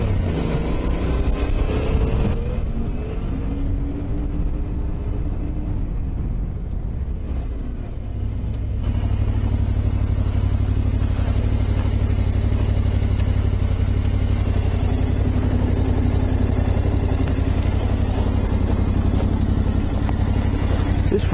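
A Yamaha T700 motorcycle ridden two-up, its engine and tyre roar filling the ride with steady wind-blown rumble; a brief lull midway before the noise builds again and holds loud and continuous.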